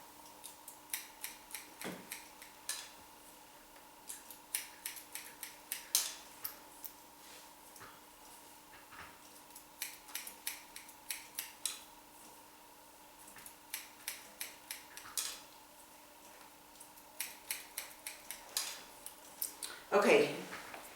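Scissors point cutting through hair during a short layered haircut, rapid crisp snips in repeated bursts with brief pauses between them, close and fairly quiet, with no talking.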